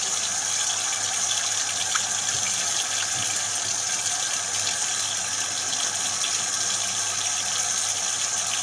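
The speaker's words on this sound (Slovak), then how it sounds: "Zemiačky, mäkké, cedíme." Water from boiled potatoes pours steadily through a strainer, a continuous hissing, splashing gush that stays even and loud throughout with no speech.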